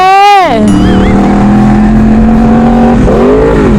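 A big bike motorcycle on a racetrack roars loud and close: a high rev drops sharply, holds a steady buzzing engine note, then climbs again near the end.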